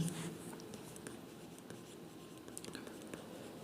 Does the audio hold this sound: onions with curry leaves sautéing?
no